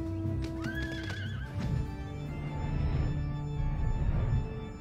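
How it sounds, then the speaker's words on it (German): A horse mount in the online role-playing game Final Fantasy XIV gives a sharp whinny, followed by a run of hoofbeats clip-clopping, all set against steady sustained game music tones. "Hey, gib mir mal ein Pferd."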